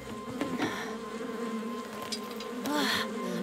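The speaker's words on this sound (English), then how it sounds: "There's lots of bees on me" Honeybees buzz around a beekeeper during hive work, a faint, steady drone with wingbeat whines rising and falling as individual bees pass near, plus some light handling noises.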